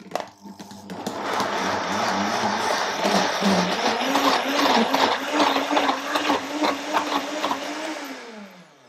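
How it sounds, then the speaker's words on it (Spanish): A food processor whirs up to speed and runs loudly for several seconds, its motor pitch wavering slightly as it churns, then winds down. "Vamos a empezar a batir. Vamos a procesar esto."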